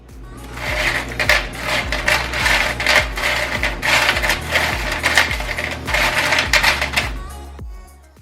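Dry pasta rattles and clatters in a steady stream of small hard clicks, with a low rhythmic thumping underneath.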